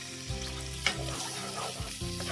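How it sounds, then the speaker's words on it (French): Tomato paste fries in a pot while being stirred, giving a close, busy sizzle broken by repeated scraping strokes and a sharp clink near the start. "Je mélange bien. Je rajoute un peu d'eau pour laisser cuire la tomate concentrée."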